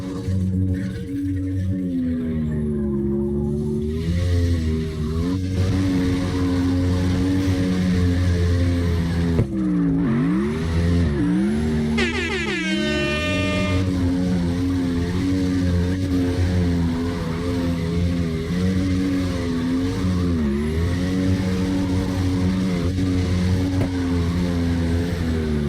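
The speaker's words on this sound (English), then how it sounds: "we got Scarface sliding that truck real nice" A truck drifts in CarX Drift Racing Online, its engine droning loud and steady with shifting revs and a sharp rising tire squeal midway, continuous and close with no talking.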